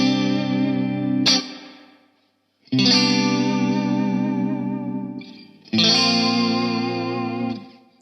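Clean electric guitar chords through a Hughes & Kettner StompMan ring out in three sustained strums, washed in springy reverb with repeating delay tails trailing after each, no voices.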